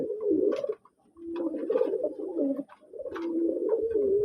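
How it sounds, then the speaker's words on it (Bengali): Close, steady cooing from loft pigeons in Manikganj, a run of low throaty rolling calls broken by one brief gap, then resuming alone without talk. "কবুতরগুলি ফুরফুর মেজাজে আছে ডাকাডাকি করতেছে"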